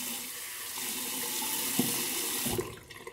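Water runs from a bathroom tap while shaving soap is being lathered, a steady close rushing stream with a few small splashes that trails off as the flow is shut just before the end.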